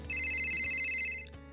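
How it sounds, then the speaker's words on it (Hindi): Phone ringtone in an animated Hindi horror cartoon: a single electronic ringing burst with steady bright tones, clear and close, ending abruptly after about a second. "एक कॉल आता है।"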